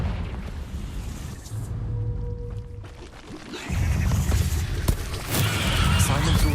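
The Confringo explosive spell goes off in Hogwarts Legacy with a loud booming burst and rushing roar. It sits over dense game music and effects, and a voice shouts the spell name at the start.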